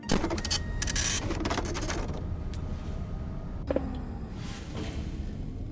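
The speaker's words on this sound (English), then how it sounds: "when you're listening to a loud ass printer noise, it's kind of hard to hear a subtle sound cue" Loud, steady mechanical printer noise from a FNAF fan video game runs throughout, with dense rattling texture, a few sharp high clicks early on and a brief thump near the middle.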